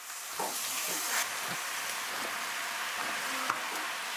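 Steak and onion sizzle steadily in a hot pan, a continuous broadband hiss broken by soft stirring scrapes and a sharp clink near the end, with no talking.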